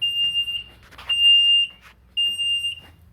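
Warning beeps from a Snapper out-front Z-Rider riding mower during a blade change, three steady high tones each lasting about half a second, separated by short gaps, with faint clunks and handling noise between them.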